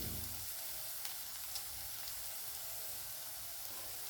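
Chili powder fries in oil over a low flame in a pan for a chickpea curry. A soft, continuous sizzle follows a brief louder start, with a few faint clicks and no voices.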